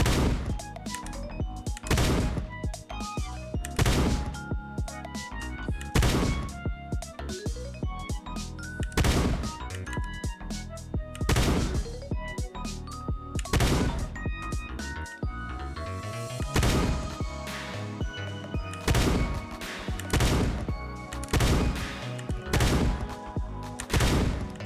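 Shotgun blasts in the video game Shortventure 3 strike clusters of spikes, a run of loud, punchy bursts at uneven intervals over a busy game soundtrack.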